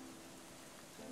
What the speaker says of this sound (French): Ça commence avec de la pluie.